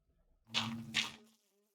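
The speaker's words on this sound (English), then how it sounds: "It comes with actual bees." A brief buzzing drone of bees in modded Minecraft, swelling twice in quick succession as if passing close by, then fading away.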